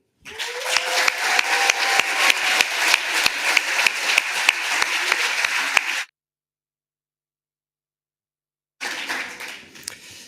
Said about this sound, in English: I would like to have a big applause for all of you